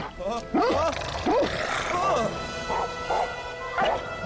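A dog in The Adventures of Tintin video game lets out a run of yapping barks and whimpers, several sharp bursts close together and then softer, spaced yelps, with game noise underneath.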